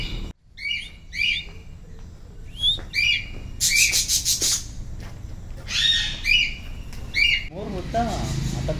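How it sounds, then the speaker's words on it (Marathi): Assorted caged birds in large aviaries at Karnala call out with repeated squawks, whistles and harsh notes in short bursts, fairly close against a low background murmur. "आणि ते पाठी तुम्ही आवाज ऐकू शकता। मोठ्या मोठ्या पिंजऱ्यांमध्ये वेगवेगळ्या प्रकारचे पक्षी ठेवलेत।"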